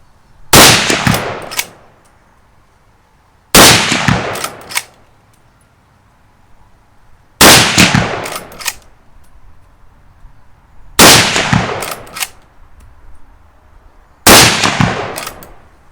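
A Winchester 1895 lever-action rifle fires five loud, sharp shots, spaced roughly three to four seconds apart, each followed by a short ringing tail and quiet gaps for the lever action between rounds.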